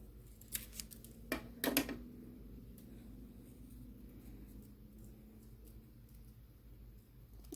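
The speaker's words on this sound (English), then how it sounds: "I'm just going to cut off that tail so that doesn't show" Scissors snip the tail off a yellow paper quilling strip, a few quick close crisp cuts and a short double snip, then quiet room tone.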